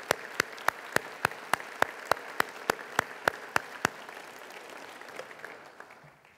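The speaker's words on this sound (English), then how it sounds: "please give a warm round of applause" Slow, evenly spaced claps ring out at a university address, a single loud rhythmic beat repeating about every third of a second before stopping and leaving faint room murmur.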